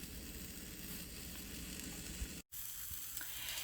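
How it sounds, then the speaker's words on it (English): Vegetables roasting on a hot pan, a soft continuous sizzle heard faintly and close, broken by one brief cut partway through. "So I'm just going to keep turning it and each one of the vegetables until they get"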